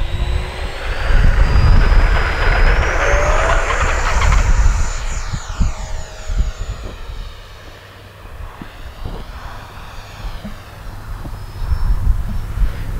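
An FMS Futura 64 RC jet takes off, its electric ducted fan swelling into a loud, rushing whine as it passes close, then fading and sweeping in pitch as it climbs away amid light outdoor noise.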